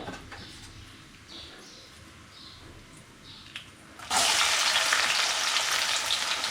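Sliced onions drop into hot oil that already holds whole spices and bay leaf for a paneer biryani, and a sudden loud, steady sizzle takes over after a few seconds of quiet, faint kitchen clatter.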